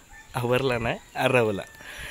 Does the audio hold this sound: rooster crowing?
yes